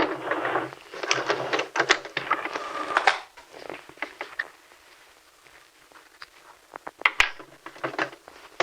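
A sewing machine top-stitches a T-shirt dress and back-stitches at the end, giving a few quick, busy runs of rapid stitching separated by short pauses and quieter handling noises.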